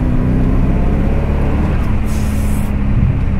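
A 1988 Callaway Twin Turbo C4 Corvette's engine produces a deep, steady rumble under load, heard from inside the car, with a brief hiss of turbo air rushing in partway through.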